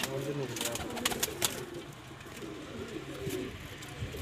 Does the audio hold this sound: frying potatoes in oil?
no